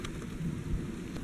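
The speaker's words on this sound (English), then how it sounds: "And it's raining again now." Steady rain falling outdoors on a winter day, a continuous close wash of patter and low rumble with no voices.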